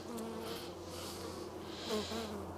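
Bees in an open hive drone and buzz steadily up close, a dense humming swarm with occasional higher-pitched whines rising over the hum.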